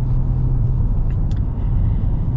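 Toyota Tacoma with the 4.0L V6 cruising, a steady low rumbling engine drone heard from inside the cab, continuous and even with no voices.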